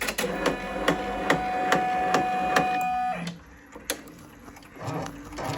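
A home embroidery machine stitching a tack-down outline on a sweatshirt, rapid regular mechanical clacks over a whirring motor tone for about three seconds, then stopping, followed by a few scattered clicks and handling noises.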